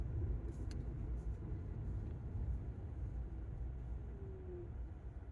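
Cars rumble along a mountain road at about 7,695 feet, a steady low engine and tyre drone that stays fairly constant throughout, with no speech.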